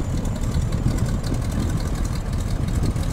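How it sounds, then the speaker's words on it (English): The radial engine of a simulated Stearman PT17 biplane idles after start-up in Microsoft Flight Simulator, a steady low rumble with a rough knocking texture, moderately loud and continuous, with no talking. "Really nice start up there actually from the aircraft. Engine quite hesitant to catch, which is great to see."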